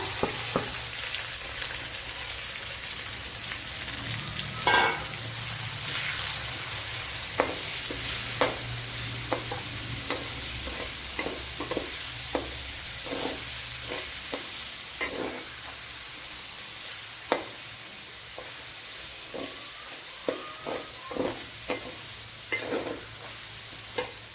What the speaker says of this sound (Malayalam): ഇതിലേക്ക് ഒരു വലിയൊരു സവാള അരിഞ്ഞെടുത്തിട്ടുണ്ട്. അത് ഇട്ട് കൊടുക്കുക. ആ ഓയിലിൽ തന്നെ ഇട്ട് കൊടുക്കുക.